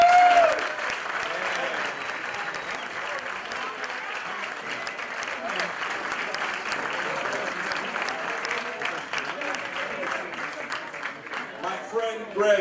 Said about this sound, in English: big round of applause for the broadcasting crew